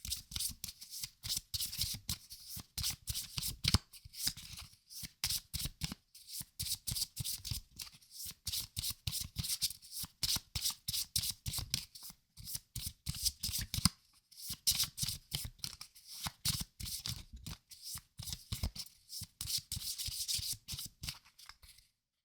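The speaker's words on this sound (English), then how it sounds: "So let's shuffle up our remaining cards and pass them on." Magic the Gathering trading cards from a Streets of New Capenna pack being shuffled up close, a steady run of crisp riffling bursts with brief pauses between, no voice.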